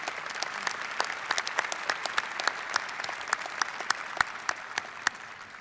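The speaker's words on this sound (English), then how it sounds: "Another round of applause for our wonderful speaker tonight." Scattered applause from the audience at the Iowa State University Fall 2018 graduate commencement, a moderate bed of clapping punctuated by many distinct, sharp individual claps that stand out close by, continuing steadily throughout.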